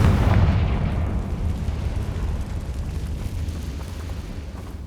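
A Confringo fire spell from Hogwarts Legacy detonates in a single loud, deep explosion with a booming onset that rolls into a long rumble and fades over several seconds.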